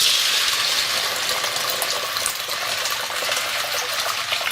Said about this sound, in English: we're going to soak the beans overnight in a generous amount of water